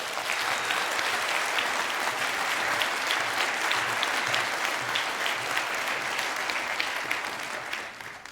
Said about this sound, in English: So a very special, very decent, loud, amazing applause for Niels.